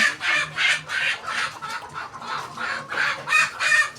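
Caged layer hens in double pyramid wire cages, six tiers, cluck steadily in a dense, overlapping chorus of short calls, close and fairly loud with no talking.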